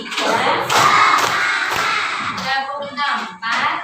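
A group of people in an Indonesian classroom session claps together in counted rhythmic sets, sharp overlapping claps mixed with voices chanting and talking throughout.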